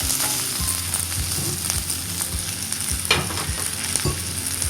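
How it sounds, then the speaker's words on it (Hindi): Onion and chili sautéing in a hot pan for Kung Pao chicken: a constant close sizzle broken by repeated sharp scrapes and knocks of a spatula against the pan, with no talking. "एक मिनट इसको भी सौते कर लेंगे, सब चीज़ों को, प्याज और चिली को"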